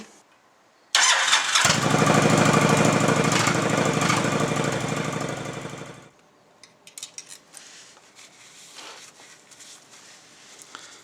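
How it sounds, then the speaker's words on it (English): A Honda VTX motorcycle engine cranks and fires up, then runs at a loud, steady idle close by for several seconds before cutting off, followed by faint clinks and handling noises. "I'm going to run the bike for 30 seconds just to fill up the filter"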